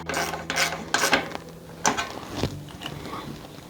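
A socket wrench ratchets as it tightens the front axle nuts on an S.E. Bikes Blocks Flyer BMX, with the wheel centered in the fork. Several short, close clicking bursts come in quick succession.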